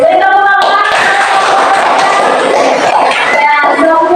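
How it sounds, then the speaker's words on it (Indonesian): A classroom of pupils claps in a burst of applause during a teaching practice lesson in Banda Aceh. Voices are heard briefly before and after the dense, close clapping. "Beri tepuk tangan."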